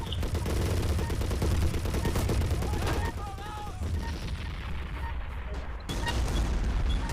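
Dense gunfire and mortar fire fill a World War II battle in the Men of War strategy game, with continuous rattling bursts and heavy thuds layered together, loud and close.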